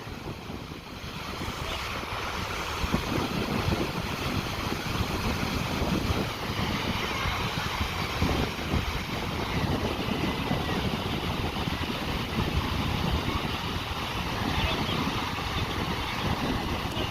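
A boat ride on the sea off Scarborough, with a steady loud rush of wind, engine and water noise filling the whole stretch without a break.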